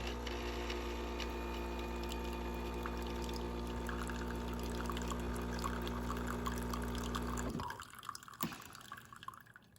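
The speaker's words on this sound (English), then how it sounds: "A perk of living at home is using this fancy coffee machine." A fancy home coffee machine pours steadily with a constant liquid stream and motor hum, ending abruptly near the close, followed by a few faint drips and clinks.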